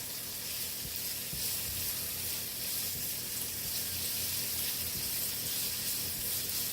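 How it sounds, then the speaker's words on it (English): Mushrooms simmer in braised beef rib juices in a pan, giving a steady, close sizzle and bubbling that runs evenly throughout with no voices. "We're gonna cook the mushrooms a little bit"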